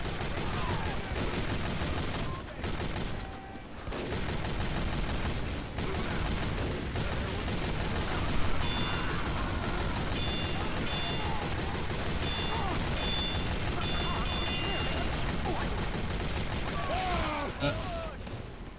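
In Team Fortress 2, the heavy weapons guy's minigun fires in long, continuous roaring bursts amid crowded battle noise, with voices talking over the gunfire.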